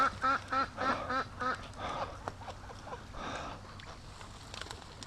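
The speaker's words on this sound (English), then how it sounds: "Oh, we got a bunch of ducks behind us." Muscovy ducks quack in a loud burst of repeated calls, then keep up scattered, fainter quacks over a low outdoor background.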